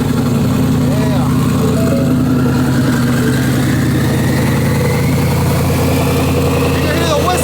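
A 2024 Ford F-150 with a twin-turbo Coyote V8 idles loudly and steadily, a deep rumble with a thin rising whistle layered above it throughout.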